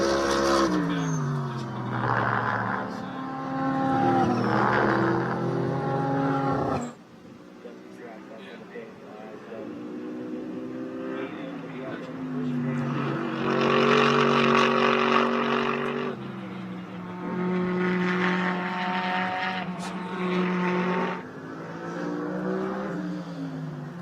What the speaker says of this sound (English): Mike Skeen in the ACS Manufacturing Lone Star Racing Mercedes continuing to lead here